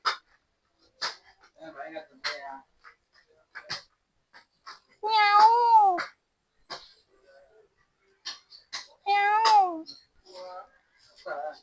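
A cat gives two drawn-out, wavering meows in a village setting in Malaysia, separated by scattered short noises, clicks and brief voices nearby.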